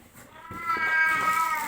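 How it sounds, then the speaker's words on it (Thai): A cat gives one drawn-out meow that rises and holds, fairly close and moderately loud, with a faint thump just before it. "อันนี้แมวครับอันนี้แมว"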